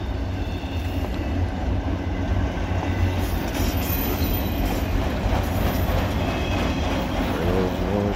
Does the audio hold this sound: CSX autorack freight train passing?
yes